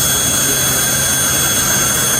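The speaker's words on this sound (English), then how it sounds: "It has a Pratt & Whitney J60 engine, which was originally fitted to a Sky Crane helicopter." A jet dragster powered by a Pratt & Whitney J60 jet engine, taken from a Sky Crane helicopter, roars loud and steady with a high whine, close and unbroken throughout.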